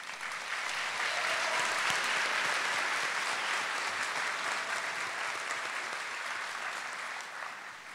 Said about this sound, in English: And one more round of applause for Tommy.